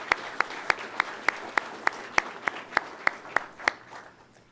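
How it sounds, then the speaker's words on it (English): At an Air Force undergraduate pilot training graduation ceremony at Vance Air Force Base, about a dozen sharp, evenly spaced claps ring out in a slow, steady rhythm, close and distinct against a quiet room. "Please, a round of applause for our guests and our family members and friends."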